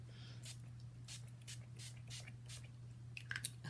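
Urban Decay All Nighter setting spray is spritzed onto a face in a series of soft, close misty bursts, about six quick pumps over a low steady hum, with no talking.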